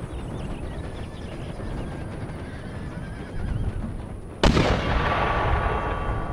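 A sudden heavy boom of mortar fire cuts through the steady roar of a Napoleonic-era Empire: Total War battle, with horses whinnying and hooves in the din. A sustained rumble of battle noise follows.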